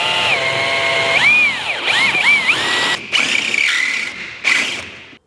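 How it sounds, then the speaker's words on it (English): A power drill bores out rivets on a Scania R580 V8 truck, giving a loud, close, high-pitched whining squeal that rises and dips in several bursts with brief pauses between. "But the first job is to drill these off."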